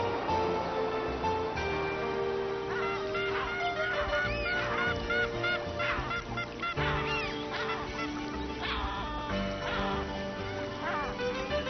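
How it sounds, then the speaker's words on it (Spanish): Elegant terns calling at Paracas, Peru, a dense colony chorus of harsh, repeated cries from many birds at once, continuous and fairly loud. "El gaviotín elegante es uno de ellos."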